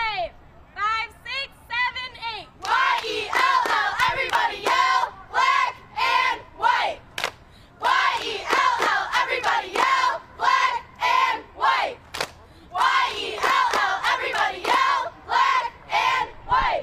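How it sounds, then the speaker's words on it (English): Fenwick High School cheerleaders perform a chant before a football game at Fornelli Field, girls' voices shouting in rhythmic unison bursts separated by short pauses, loud and close with crowd noise between. "Got a little cheer for us."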